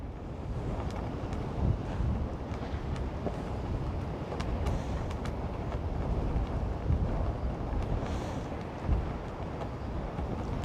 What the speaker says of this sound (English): it's not gonna be really good because the wind is really heavy